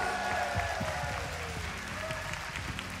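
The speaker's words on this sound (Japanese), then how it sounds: "バンドの皆さん、ダンサーの皆さんに大きな拍手をお願いします。" A concert crowd at a live tour show in Japan applauds the band and dancers, a dense continuous wash of clapping under faint voices.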